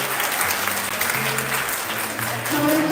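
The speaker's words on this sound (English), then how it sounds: "Alright, people, clap again." Graduation audience at Seaforth High School clapping steadily, a dense patter of hands throughout, with a voice and some tonal sounds over it, swelling toward the end.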